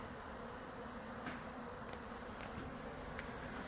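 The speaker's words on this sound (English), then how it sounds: "There's just a billion bees out here today." Dense, steady buzzing of many honey bees fills the air outdoors during a fall honey harvest, a continuous insect drone with no voices.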